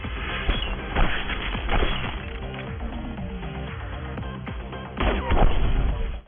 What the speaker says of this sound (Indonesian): melepaskan tembakan M200-nya yang menghabiskan anak buah sang hakim yang berada di luar